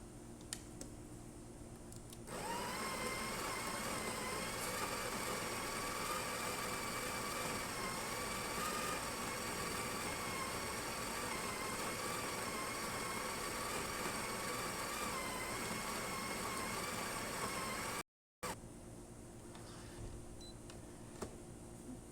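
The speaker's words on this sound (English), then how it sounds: "So now I'm just going to pull a shot and just show you that everything's working." A Breville Express Impress espresso machine, just serviced, pulling a shot: a steady mechanical pump hum starts after a couple of seconds and drones evenly at moderate volume, cut off by a brief gap near the end, with no voices.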